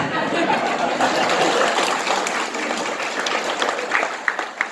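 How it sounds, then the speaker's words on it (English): An audience gives the neighbors a round of applause, a broad, sustained wash of clapping that thins out, leaving a few sharp individual claps at the end. "how's about a round of applause for my neighbors?"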